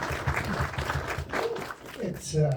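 A film-festival audience at a post-screening Q&A claps fairly softly for a couple of seconds, with voices mixed in.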